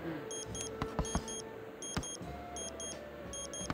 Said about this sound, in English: And that beeping is fucking up.